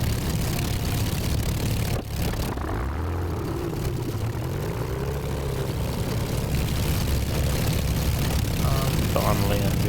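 Avro Lancaster engine starting in Microsoft Flight Simulator 2024, a loud piston engine coughing and whining up, then settling into a rough, steady propeller drone, with a voice talking over it.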